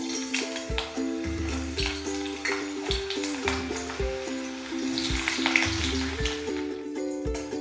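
Paneer cubes fry in hot oil in a kadai, giving a soft continuous sizzle with occasional stirring, heard under steady background music.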